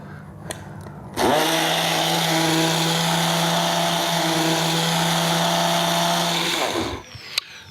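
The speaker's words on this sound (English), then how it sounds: "And then we're going to blend them down." A blender starts with a sudden whir and runs steadily for about six seconds as it purees cooked carrots with butter and milk powder, then winds down and stops, with a couple of small knocks before and after.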